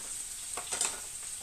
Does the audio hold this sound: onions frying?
yes